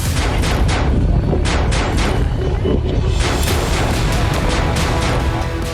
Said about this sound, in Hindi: उन्होंने इजरायली नागरिकों पर अंधाधुंध फायरिंग शुरू कर दी